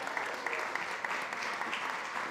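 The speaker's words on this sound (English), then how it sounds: "Round of applause." An audience at a food summit panel gives faint, distant applause, a steady patter of many hands clapping that holds for a couple of seconds.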